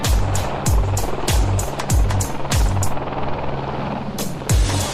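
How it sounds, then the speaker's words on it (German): A helicopter hovers close overhead while lifting heavy tools and material for climbers replacing an antenna, its rotor chopping in a steady rhythmic thump over a broad engine roar. "Der Hubschrauber ist wie ein Lift für das Material."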